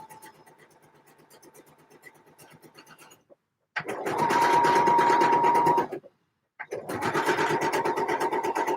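A sewing machine stitches the side seam of a Vogue 8947 dress in three runs: a quieter first stretch, then two loud, steady whirring bursts separated by short pauses.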